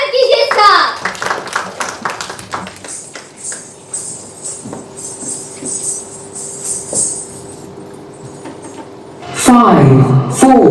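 Audience clapping to welcome a dancer at a dance competition finale, a burst of claps near the start that thins out into scattered claps and murmuring, with a voice speaking over the end.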